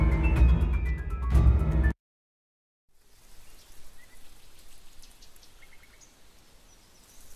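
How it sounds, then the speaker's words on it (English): A dreary rain downpour patters steadily and softly after a brief burst of tonal sound and a short silence, with a few faint bird chirps scattered through the hiss. "A dreary downpour starts off the Monday."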